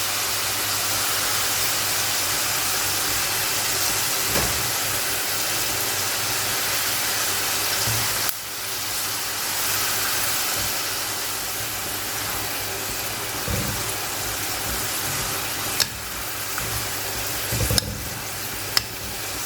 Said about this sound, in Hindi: इसको हमने गोल्डन ब्राउन होने तक फ्राई करना है और ये बिल्कुल क्रिस्पी सी हो जाएगी